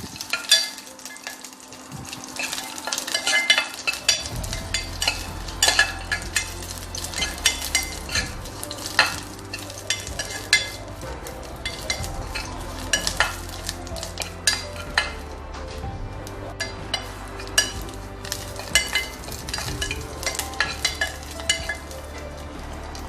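Moringa leaves fry crisp in a pan with a continuous crackling sizzle, and a spoon stirs and scrapes against the metal throughout.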